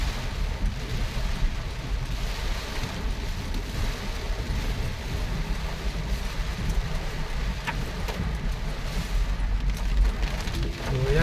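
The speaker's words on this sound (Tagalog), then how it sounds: "kahit malakas yung ulan, pabugso-bugso no" Heavy rain pours down in a steady, dense hiss that never lets up, with a low rumble underneath.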